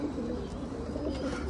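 Homing pigeons coo softly and steadily, a low murmuring burble with a constant airy background and no talk.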